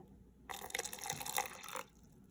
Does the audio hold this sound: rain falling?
no